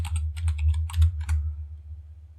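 Rapid, close computer keyboard typing fills the first second and a half, a quick cluster of crisp keystrokes entering a username, then falls silent.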